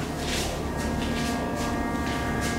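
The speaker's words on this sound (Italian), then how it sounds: "questo è il suono della lavatrice raga" A washing machine running: a steady low mechanical rumble with a rhythmic swishing that returns about twice a second, close and constant, with no voices.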